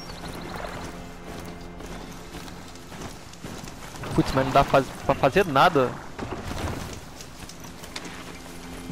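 Horse hooves clip-clop in the Horizon Zero Dawn video game, a quick burst of rhythmic hoof strikes lasting about two seconds in the middle, over game ambience and someone talking.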